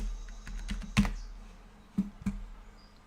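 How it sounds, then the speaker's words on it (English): Keystrokes on a computer keyboard while typing into a search, a few scattered clicks with sharper taps near the start and again toward the end, close and fairly quiet. "Let me see if I type it"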